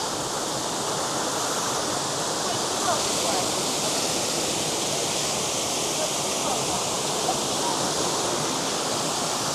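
A waterfall in Wales roars as a dense, unbroken wash of rushing water, loud and close, with no break for the full length.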